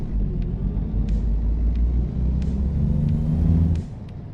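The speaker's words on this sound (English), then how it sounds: "you can hear the sound of the engine braking" A truck engine brake in American Truck Simulator, a steady low rumbling drone with a pulsing growl that holds loud and continuous, then drops slightly near the end.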